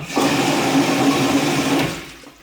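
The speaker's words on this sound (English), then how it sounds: "So now you have your poop right here and you flush" A toilet in Germany flushes in one loud, steady rush of water lasting about two seconds, then fades quickly as the bowl empties.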